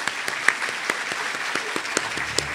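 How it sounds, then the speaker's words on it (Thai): Scattered clapping from a small group, with a few sharper individual claps standing out over a steady patter of hands. "ขอเสียงปรบมือด้วยครับ"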